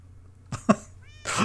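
A Minecraft cat meows in a short game sound, a brief cough-like bark followed by a higher, clearer mew near the end, loud and close.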